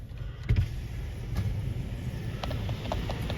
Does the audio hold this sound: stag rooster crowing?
no